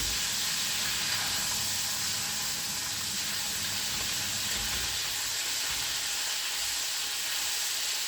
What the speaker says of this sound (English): Frying nicely.